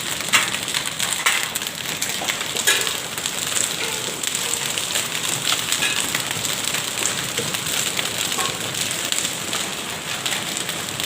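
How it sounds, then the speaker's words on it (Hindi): Large hailstones pelting down hard in Isa Khel, Mianwali, a dense continuous patter and crackle of many impacts on surfaces, steady and loud throughout with no talk. "इतने तेज ओले और इतने बड़े बड़े ओले पड़ रहे हैं"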